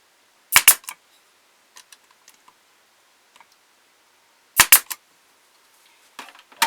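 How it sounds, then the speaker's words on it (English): A staple gun drives staples into a glued wooden part of a ventriloquist dummy body, giving two loud, sharp snapping shots about four seconds apart with faint scattered clicks in between. "I glue it, and then I'm going to put a staple in here."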